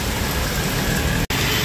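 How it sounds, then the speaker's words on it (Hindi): Heavy monsoon rain pouring down in Mumbai: a dense, loud, unbroken hiss of downpour filling the whole stretch, with one very brief dropout near the end and no talk. "बारिश हो रही है"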